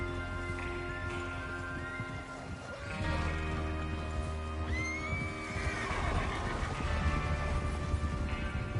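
A horse whinnies loudly and shrilly in a Wild West video game, then another neigh follows over a low, steady rumble, with faint hoofbeats in the background.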